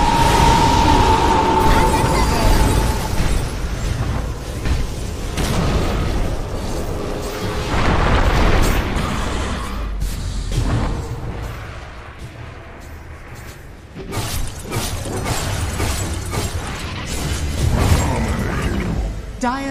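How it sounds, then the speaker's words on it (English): Tower destruction in Dota 2, heavy booms and crumbling bursts in a dense, loud battle mix with overlapping game effects and announcer-style voice lines. "Dire's top tower has fallen."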